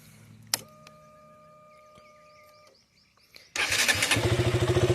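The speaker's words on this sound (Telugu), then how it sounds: "బైక్ స్టార్ట్ చేస్తాం కదా మనం, స్టార్ట్ చేసినప్పుడు ఏంటంటే మనకి క్లియర్గా ఇట్లా ఇంజిన్ నాయిస్ ఒకటే రావాలన్నమాట" A click and a whirring electric starter, then a used motorcycle's engine catches and settles into a loud, steady, pulsing idle close by.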